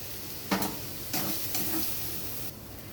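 Bombay duck fish with spices, salt and a pinch of sugar sautéed in a pan makes a steady close sizzle, broken by a few scraping stir strokes, no voices.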